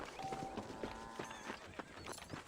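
Horse hooves clip-clopping in Red Dead Redemption, a quick run of fairly close hoofbeats with a faint whinny mixed in and no one talking.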